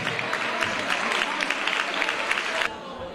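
Applause at a geology olympiad award ceremony, a steady crowd of hands clapping at moderate loudness that stops abruptly near the end, leaving quiet room tone.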